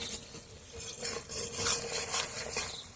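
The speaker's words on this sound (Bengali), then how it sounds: "একটু মশলাটা ভালো করে কষিয়ে নেব" Masala for a cabbage and paneer dish being sautéed with salt, sugar and kasuri methi, giving a soft close sizzle with several quick scraping stirs across a few seconds.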